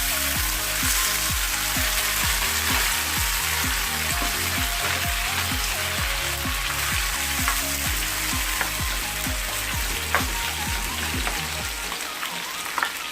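Chopped onion hits hot oil in a frying pan, setting off a loud, steady sizzle with crackling spatters and rhythmic stirring scrapes throughout, the frying continuing alone with no voices.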